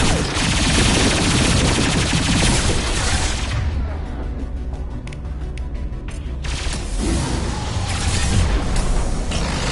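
Sustained automatic gunfire and rapid bursts of shooting in Mass Effect 2 combat, loud and dense throughout, easing briefly in the middle before resuming at full intensity.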